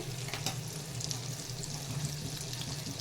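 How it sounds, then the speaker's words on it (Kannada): One to two tablespoons of ghee heat in a small kadai, giving off a soft, steady, fairly quiet sizzle with faint crackles and no voices. "ನೋಡಿ ತುಪ್ಪ ಕಾದಿದೆ ಇದಕ್ಕೆ ನಾನೀಗ ಗೋಡಂಬಿ ಫ್ರೈ ಮಾಡ್ಕೊತೇನೆ"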